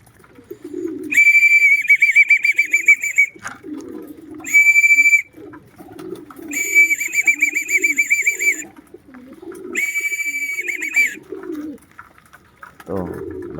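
Homing pigeons cooing softly near the loft, broken by four bursts of an owner's shrill, warbling whistle calling them in, each lasting one to two seconds.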